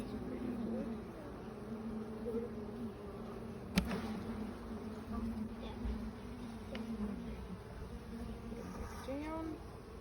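Honeybees at an opened backyard hive being checked for hive beetles and wax moth drone in a constant, dense buzz close by, with people talking quietly over it and a brief knock partway through.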